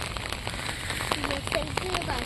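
Rain patters steadily in the background, soft and continuous, with faint voices mixed in.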